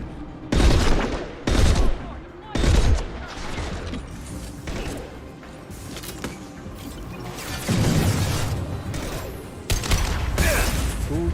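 Bursts of gunfire from the Mass Effect 2 video game crack out in rapid volleys, loud and close, with shorter pops and mechanical clatter between them, under occasional voices.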